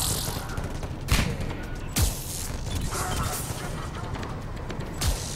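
Gunfire in a sniping video game: several sharp shots crack out at irregular intervals over a steady ambient background.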